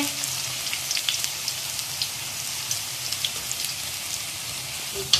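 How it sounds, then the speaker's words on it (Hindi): Potato balls crackle and sizzle steadily in hot oil on a high flame during a second frying, a continuous close bubbling hiss with small pops. "एक्स्ट्रा क्रिस्पी करने के लिए दोबारा से फ्राई करेंगे। अब हम इसको हाई फ्लेम पे डार्क ब्राउन कर लेंगे।"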